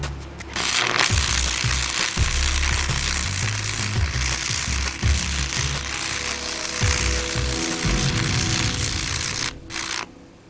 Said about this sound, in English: you need to just make a strike, see where you're at, and then start your welding